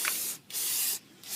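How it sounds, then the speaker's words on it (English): Aerosol can spraying an anti-rust coating onto a new brake pad during a brake pad replacement: two long, loud, close hissing bursts with short pauses between them, and a third burst starting at the end. "I believe there has a coat or whatever to prevent it from getting rust. So I'm gonna spray that really good."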